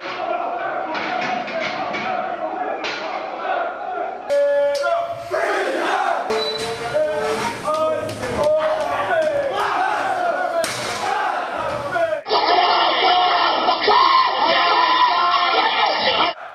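Marine drill instructors scream at recruits in overlapping shouts and yells, loud and chaotic, with a crowd of voices answering and a harsh tonal blare toward the end.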